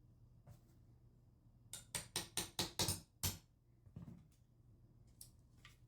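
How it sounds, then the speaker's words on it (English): A steel 1/8 inch punch is struck by a hammer to drive a pin out of a knife handle, giving about six sharp, evenly spaced metallic taps close up, followed by a few softer knocks. "Now to take the pins out, what I recommend, taking a 1/8 inch punch."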